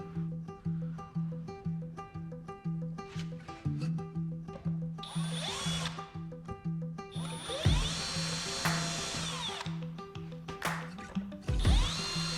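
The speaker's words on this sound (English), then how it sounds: "we'll just back this out as far as we can to get some screws started in the backside" Power drill driving screws into the back of a table saw crosscut miter sled, a close, loud rhythmic whir with pulsing trigger bursts, then sharp higher-pitched spins and screw-seating squeals near the end.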